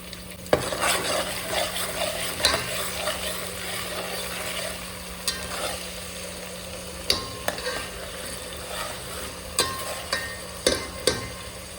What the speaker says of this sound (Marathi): आता हे जे हिरवं वाटण आहे ते मी पूर्ण घालणार आहे.